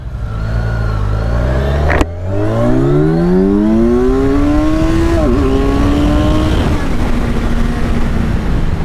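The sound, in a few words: sport motorcycle engine during a ride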